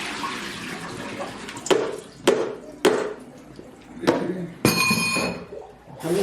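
Nixtamalized dent corn being rinsed in water, with sloshing splashes and sharp clinks of kernels against a container in several bursts, close and fairly loud, without talk.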